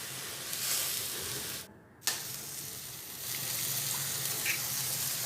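Green chilli and asafoetida sauté in a hot pan with a steady, close sizzle that drops out briefly for about a second before resuming at full strength. No one speaks.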